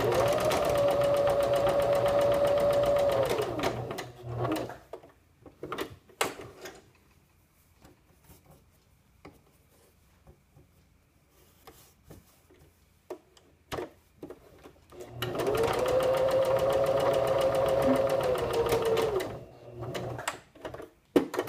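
A sewing machine stitches quarter-inch seams on the short ends of fabric accordion tabs, running in two steady, close whirring bursts of several seconds each, with a quiet pause of small handling sounds between them.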